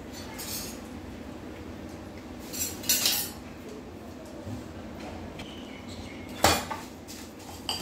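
A spoon stirring mustard seeds, dry curry leaves and asafoetida in a pan, making a few sharp metallic clinks and scrapes against the metal over a faint background sizzle.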